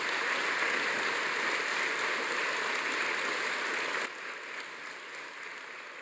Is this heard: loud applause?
yes